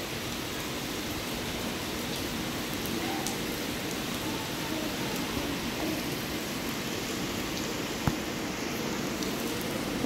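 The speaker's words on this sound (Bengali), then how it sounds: "এখনও বৃষ্টি হচ্ছে।" Steady rain falls during a low-pressure spell around a rural home, a continuous, even wash of drops that holds at one level throughout, with no voices and one small sharp tap near the end.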